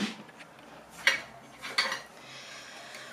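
Metal cooking pot handled in a home kitchen while canning spicy chili cucumbers, giving a few light clinks and knocks over soft background noise.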